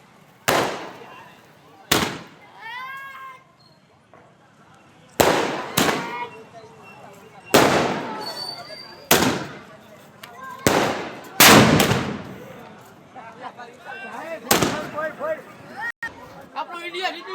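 Firecrackers set off to celebrate India's cricket win burst in about a dozen sharp, loud bangs at irregular intervals, some close and some farther off, with whistling fizzes and people chattering in between.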